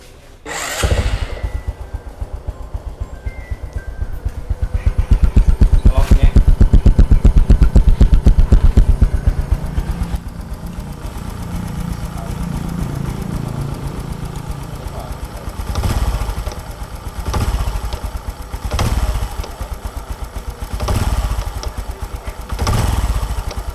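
A Vietnamese NeoFI scooter engine runs after maintenance, with a sharp start followed by a sustained loud idle, then several rhythmic throttle revs rising and falling in the later half.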